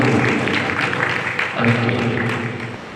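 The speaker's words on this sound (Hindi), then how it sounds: "हम अपने भाई अभिषेक मुराद का स्वागत प्रभु यीशु मसीह के नाम में ताली बजाते हैं।" A church congregation claps to welcome a visiting preacher at a Passion Week service, a steady wash of applause running beneath someone talking over it.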